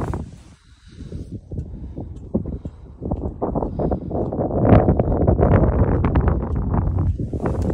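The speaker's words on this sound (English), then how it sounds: "So windy, you can probably hear that on the" Strong wind buffets the microphone in loud, gusty rumbles that build and stay heavy on a Norwegian island, with no voices.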